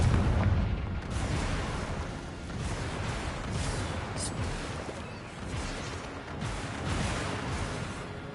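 A Confringo fire-spell blast booms in the Hogwarts Legacy video game, starting with a loud burst and followed by sustained rumbling, crackling combat noise.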